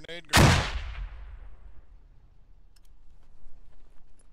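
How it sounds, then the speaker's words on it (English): A frag grenade blows up in the military shooter game Squad, one loud, sharp blast that rolls into a long, fading rumble, followed by faint distant clicks and crackles. "I'm gonna toss a frag on the second floor."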